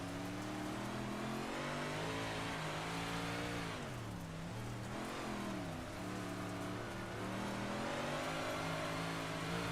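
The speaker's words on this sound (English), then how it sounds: "Gotta be easy on that throttle, having to lift a lot of power in these big blocks here at Fairbury" Big-block race cars run laps on a quarter-mile track at Fairbury, their engines droning and rising and falling in pitch as drivers ease off and get back on the throttle, heard steadily at moderate distance.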